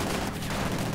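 Dense automatic weapon and submachine gun fire in Company of Heroes 2, a steady unbroken volley of crackling shots from troops advancing in a World War II real-time strategy battle, loud and continuous with no talk.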